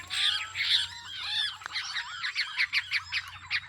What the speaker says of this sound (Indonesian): Inilah cara menangkap burung curucukan perang jaring.